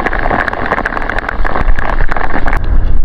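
Strong Amihan monsoon wind buffets the microphone in loud, uneven rumbling gusts that swell and ease over a few seconds, with no voices.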